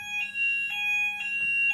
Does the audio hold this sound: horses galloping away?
no